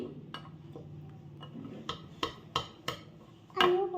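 A spoon stirs chilla batter with curd and water in a bowl, giving soft scattered taps and clinks that grow into a few sharper knocks against the bowl, quiet and close.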